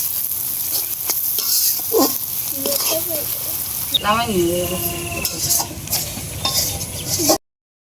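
Onion and green chillies fry in a pan with a steady sizzle and repeated stirring scrapes; voices talk faintly in the background partway through, and the sound cuts off abruptly near the end.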